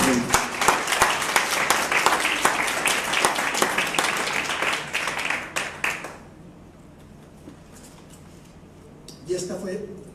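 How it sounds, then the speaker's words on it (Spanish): Church congregation applauding in a sanctuary, a dense burst of clapping for about six seconds that then cuts off into a quiet room, with a brief stir of sound near the end. "dale un aplauso a ese rey."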